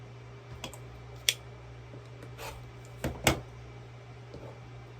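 Scissors or a rotary cutter trim the fabric edge of a quilt block in a quiet room, a few sharp isolated snips and clicks spaced out over a low steady hum.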